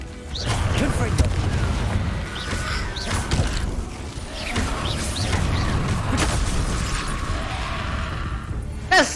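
Confringo fire-blast spells detonate in the Hogwarts Legacy video game, with several heavy booms and crashing impacts spread across the clip over a continuous rumbling game background.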